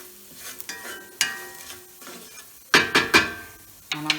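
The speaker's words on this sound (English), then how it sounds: "I'm going to keep stirring it." Spaghetti carbonara being stirred in a pan, with a series of close scrapes and clinks of a utensil against the pan over a low sizzle, coming in irregular bursts with no talking.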